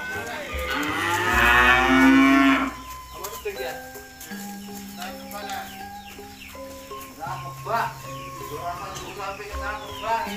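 A cow gives a long, loud moo while cattle are unloaded from a truck, then quieter animal calls and bird chirps follow, with people talking in the background.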